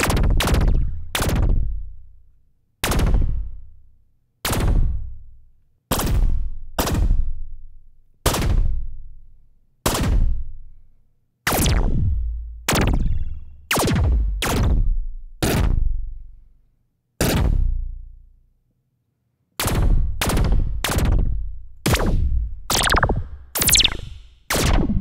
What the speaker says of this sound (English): So this is a weapon sound, a future weapon sound.